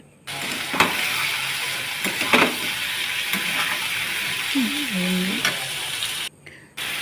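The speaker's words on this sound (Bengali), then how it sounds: "আলু দেওয়ার পরে একটু আমি নাড়িয়ে নিচ্ছি" Potatoes and dried chillies fry in a pan with a steady sizzle and hiss, broken by several scraping strokes as they are stirred, close up, and a short quiet pause near the end.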